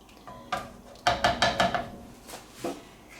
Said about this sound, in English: And you have to keep stirring this for a little bit too